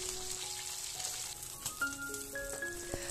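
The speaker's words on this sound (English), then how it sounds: "My fish is being fried" Kingfish pieces frying in hot oil in a pan over medium-high flame, giving a steady soft sizzle with faint crackles and some thin tonal sounds in the background, heard with no talking.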